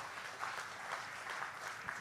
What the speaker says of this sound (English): Can we once again give a round of applause to Ibu Sri Mulyani